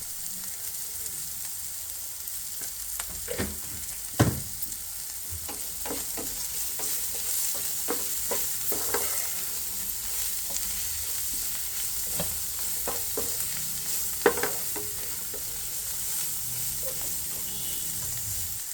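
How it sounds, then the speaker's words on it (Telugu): Bitter gourd pieces frying on a low flame in a pan, giving a continuous hissing sizzle with occasional scraping stirs and light spatula taps throughout, close and alone with no talking. "ఈ కూరను మధ్య మధ్య కలుపుతూ లో ఫ్లేమ్లో ఏడు ఎనిమిది నిమిషాల పాటు వేగనివ్వాలి"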